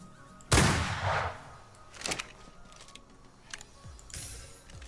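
Gunfire at a pirate encampment in the video game Atlas: one loud, close burst that rings out and decays, followed by a few sharper, fainter cracks and clinks, with no talking.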